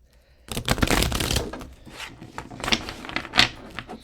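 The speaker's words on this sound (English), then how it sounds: "I may have to do another shuffle" Large oracle cards being shuffled by hand nearby, with a long riffling burst, a pause, then a few shorter rustling shuffles and a sharp snap near the end.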